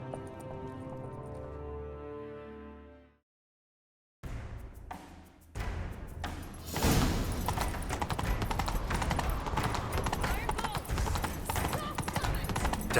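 Rapid hoofbeats of a galloping horse in The Witcher 3: Wild Hunt pound steadily over loud game music and effects, after a brief tonal passage and a moment of silence.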